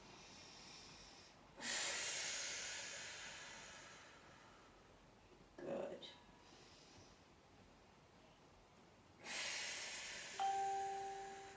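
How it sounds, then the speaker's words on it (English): Deep breaths drawn in through the nose during a prone stretch, two long airy inhalations a few seconds each with a shorter sniff between them, close and clear, and a brief spoken word near the end. "take a bit of a deeper breath, so use your thoracic breath, breathing in through the nose"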